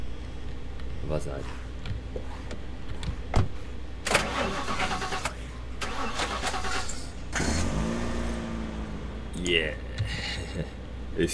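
Car engine in The Last Stand: Aftermath cranks and turns over in several loud bursts, sputtering and catching, close up, with someone talking over parts of it.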